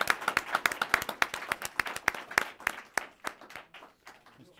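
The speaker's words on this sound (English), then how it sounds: "Please join me in a round of applause for just 2 real leaders in education." Applause from an audience at a public education event on post-earthquake Haiti: a smallish group claps in distinct, sharp strokes that thin out and fade over several seconds, with no talking.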